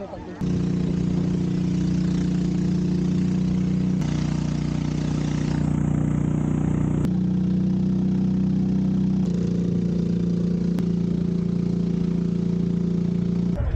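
A passenger boat engine idles in Rodriguez, Rizal, Philippines with a steady low droning hum, continuous and fairly close, its pitch shifting slightly a few times.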